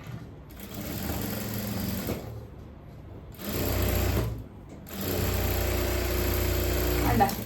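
Sewing machine stitching a scallop neckline, running in steady whirring bursts with brief pauses between them, close and fairly loud.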